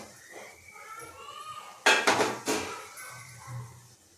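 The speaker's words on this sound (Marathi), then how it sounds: "आता याला आपण तेल सुटण्यासाठी थोडा वेळ झाकण ठेवायचं आहे" A metal lid goes onto a pot of fanshachi bhaji (jackfruit vegetable) cooking on the stove, with a couple of loud close clanks and rattles amid sizzling and soft talk.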